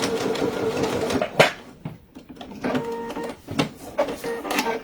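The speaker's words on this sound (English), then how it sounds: "I'm just going to be sewing across those two short ends just now" Sewing machine stitching across the two short ends of a fabric tote bag at a short stitch length, running in steady mechanical bursts with brief pauses between runs, close and fairly loud with no talking.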